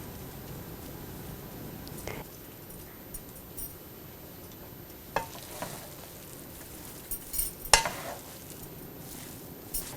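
Egg biryani with mint and coriander leaves is mixed in a pot: faint steady sizzle under soft, sparse scrapes and a few light clinks from the stirring, quiet and alone.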